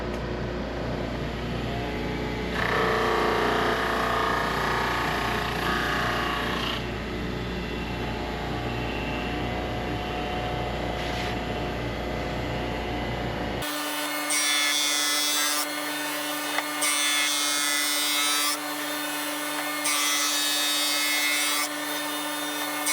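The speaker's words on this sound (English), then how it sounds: "I do sand these flat and get them the right diameters that I want" Wood and resin bowl blanks are sanded flat, making a loud, continuous abrasive rasp with a steady motor hum throughout, and the tone changes partway through as the pressure and strokes rise and fall.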